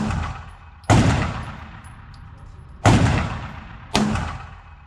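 Three sharp, loud pistol shots ring out about a second or two apart, each cracking sharply and then fading in a long, echoing tail; the pistol wears a Burris FastFire 2 red dot sight.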